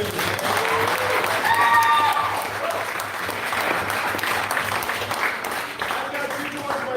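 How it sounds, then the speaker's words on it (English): An audience at a town hall in Littleton, New Hampshire applauds a teacher, a steady roomful of clapping that runs the whole seven seconds, with faint voices and murmurs mixed in. "let's give her a round of applause"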